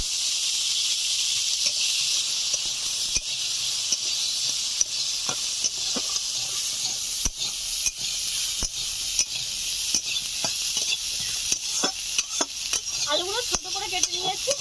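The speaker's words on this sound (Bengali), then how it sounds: "কড়াইতে অনেকটা তেল রয়ে গেছে, এই তেলে আমি আলুগুলো ভেজে নেব।" Small potato pieces fry in plenty of leftover oil in a wok, cooking Bengali village food: a steady, loud sizzle runs throughout, broken by scattered clicks and scrapes of a spatula stirring, with no voices.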